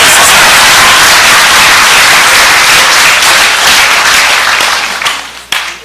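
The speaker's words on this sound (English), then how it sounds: "I think you have to applaud for me." A dense burst of audience applause at a live Ghanaian TV broadcast from the USA, loud and steady for several seconds before thinning out into a few scattered claps at the end.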